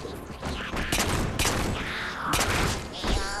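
Gunfire in the Halo 4 campaign mission Dawn on Xbox 360, including a plasma pistol charging up, comes as dense overlapping bursts of shots and booms in a steady barrage over about three seconds.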